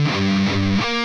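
Distorted, palm-muted electric guitar riff, a short, loud, chugging phrase of low chopped notes that ends on a ringing chord.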